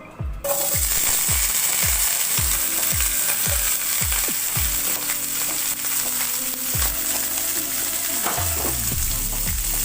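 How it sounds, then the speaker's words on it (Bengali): Onions fry in a pan for a mixed mushroom curry, a loud, continuous sizzle that begins abruptly and holds steady, with a series of low thumping knocks repeating through the first half. "পেঁয়াজটাকে আমি আগে একটুখানি ভেজে নেব।"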